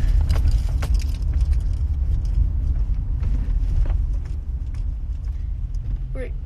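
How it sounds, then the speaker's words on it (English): A car cabin descends a mountain road, with a steady low road and engine rumble throughout, small rattles and bumps over it, and a few quiet voices inside the car. "Driving down a mountain, so I'm sorry if it's really bumpy."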